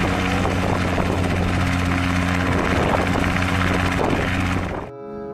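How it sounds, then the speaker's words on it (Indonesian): A loud, continuous green helicopter with a steady rotor thump and engine drone, cutting off abruptly near the end. "Di sini ada helikopter berwarna hijau."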